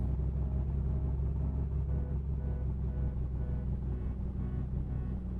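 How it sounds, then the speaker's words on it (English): A light aircraft engine in a flight simulator runs rough while taxiing, a loud, low, throbbing rumble with an uneven pulsing texture that continues steadily without talk. "Ooh, that engine doesn't sound so good."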